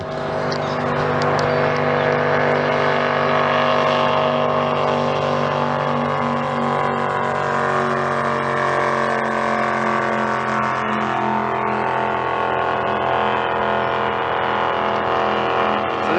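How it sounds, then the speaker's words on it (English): A motorboat with an outboard engine drones loudly and continuously during a boat race, its pitch sliding gradually as the boat passes close by. "I hear a boat coming"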